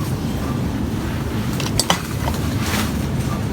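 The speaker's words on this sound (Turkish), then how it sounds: "Şöyle tavalar varmış." Metal pans and cookware clink and knock briefly while being handled on a store shelf, a few light clatters over steady ambient shop noise.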